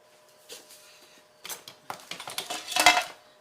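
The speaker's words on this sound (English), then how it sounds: "we're going to whisk these dry ingredients together" Whisking dry cocoa, sugar and salt in a bowl, a few light scraping taps that build into a quick run of metallic clicks and rattles, close and alone.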